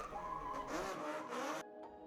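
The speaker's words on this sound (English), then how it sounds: "this is the beautiful sound of an RX-7 rotary engine warming up its tires to begin their race" Mazda RX-7 rotary engine revving hard on track as the race car warms its tires, a loud continuous buzzing engine note with squealing rubber that cuts off abruptly near the end.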